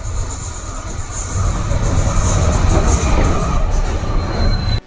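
A trial train passes on an Indian railway line through green farmland, a loud steady rumble of wagons with rail noise building and holding close by, then cutting off abruptly.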